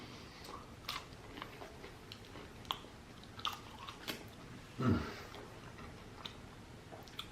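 Bites and crunches of fried seafood and seasoned fries come close and quiet, with scattered crisp clicks and one louder crunch partway through, and no talking.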